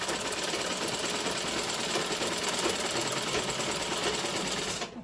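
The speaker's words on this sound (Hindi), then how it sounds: "हमें सिलाई लगा देनी है।" Steady, loud mechanical whir of a sewing machine stitching the waist seam of a baby frock made from an old dupatta, running continuously up close before stopping abruptly at the end.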